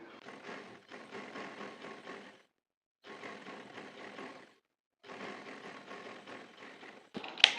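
A sewing machine stitches a trouser seam in three bursts of rapid, steady mechanical rattling separated by short pauses, close and fairly quiet, ending with a sharp click.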